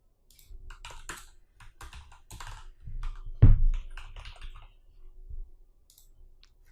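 Code is typed on a computer keyboard in quick, uneven bursts of close clicking keystrokes, with a heavier thump midway and short pauses between runs.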